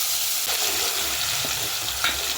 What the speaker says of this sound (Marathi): हा जो मसाला आपण सगळा परतून घेणार